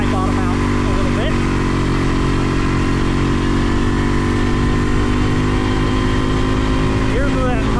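A Kawasaki 300 ATV engine runs hard near the top of its rev range, a dense continuous buzzing drone held steady and loud throughout, with a voice talking faintly underneath.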